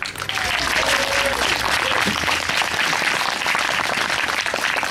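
Sustained audience applause greeting a singer at a live performance, dense steady clapping from a crowd lasting throughout, with a brief voice near the start.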